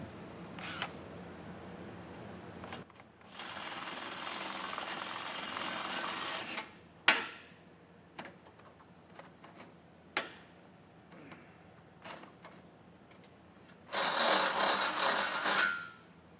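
A drill bores out square holes to 7/32 inch in a Roadmaster Direct-Connect base plate during installation, in two loud sustained bursts separated by quieter clicks and handling noises.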